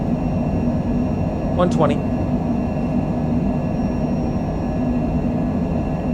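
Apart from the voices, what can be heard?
aircraft engines during a windy takeoff roll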